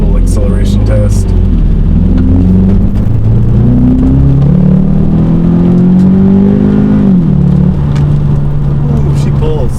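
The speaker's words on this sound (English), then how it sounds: "we'll do a little acceleration test." A Ford Focus DCT with a Power Tune accelerates hard from inside the cabin, engine note climbing steadily through the gears with a brief shift dip, loud and continuous, and a voice speaks over it.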